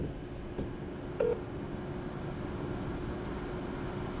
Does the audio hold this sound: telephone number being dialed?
yes